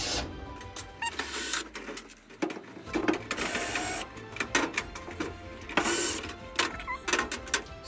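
Small screws are backed out of a clothes dryer panel with a power screwdriver, giving repeated short whirring bursts and metallic clicks close by, with no voices.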